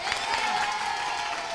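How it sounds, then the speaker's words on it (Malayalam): Audience claps for a boy at a playful Onam gathering with Maveli, producing a dense, steady burst of applause that holds evenly for about a second and a half with no clear talk over it. "അപ്പൊ ഒരു കൈയടിക്ക്."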